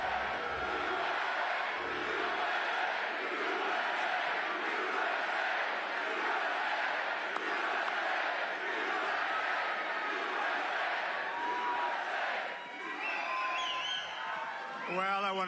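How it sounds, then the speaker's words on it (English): A large crowd at a Trump rally cheers and whoops in a sustained, reverberant roar throughout, with occasional louder shouts rising near the end. "What a crowd."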